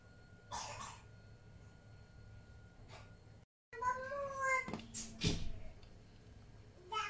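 A one-month-old kitten gives a few short, thin meows close by, scattered between soft human vocal sounds and a brief silent gap.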